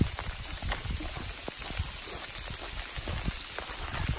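Rain falls outdoors on a walking trail, a steady broadband patter with scattered sharper drops close by, continuous across the whole stretch with no voices.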